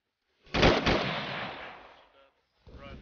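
Gunfire in a military video game, a loud burst of close shots that decays into a rumbling tail, followed after a short gap by another softer report.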